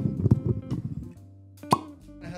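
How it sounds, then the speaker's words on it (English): A cork pops out of a bottle of Larceny Barrel Proof bourbon with one sharp, close plop after a stretch of clinking and handling noise. "Cork pop."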